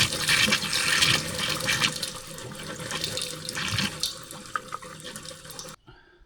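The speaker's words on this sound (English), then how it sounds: "Take a minute for it to get water moving." Water rushing and splashing through a newly hooked-up off-grid pump system, a loud continuous gushing flow that fades slightly before cutting off abruptly near the end.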